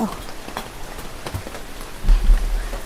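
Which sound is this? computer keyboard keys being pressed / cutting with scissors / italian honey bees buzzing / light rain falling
light rain falling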